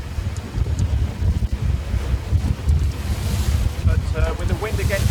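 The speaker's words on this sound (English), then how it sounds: "But with the wind against the tide, it's fairly lumpy." Wind buffets a small single-handed trailer sailer as choppy, lumpy sea slaps and surges against the hull, a steady rushing roar with microphone wind noise throughout and no talk.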